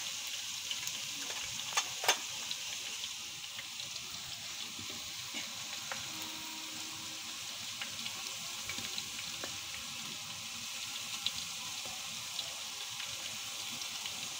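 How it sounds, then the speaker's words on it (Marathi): Green chillies fry in a big pan of oil for a large batch of potato pulao cooked as festival prasad, giving a steady, moderate sizzle with faint clinks and stirring now and then, and no talking. "या प्रकारे मिरची वगैरे बघा फ्राय झाली आहे थोडी"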